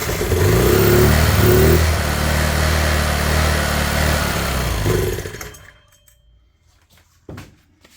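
A Honda EM400 generator engine runs hard on choke with a hand held over the intake, roaring loudly and unevenly for about five seconds before dying away to near silence, followed by a brief faint knock.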